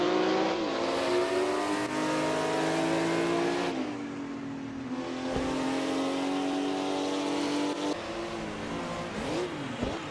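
1956 Formula One Grand Prix race cars roar past in a sustained, loud engine drone that rises and falls with gear changes as the cars race by, with no voices over it.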